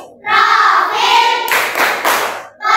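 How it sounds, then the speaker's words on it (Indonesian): Students at an Indonesian school project activity clap a rhythmic group chant, loud and close, with sharp clustered hand claps in patterned bursts and brief gaps between phrases. "Ayo tepuk P5."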